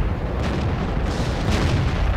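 A tank's main gun fires in World of Tanks, a deep booming blast over a steady low rumble of engine and battle ambience, with a couple of muffled reports close together.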